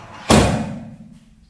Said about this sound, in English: So I'm just going to close the second door.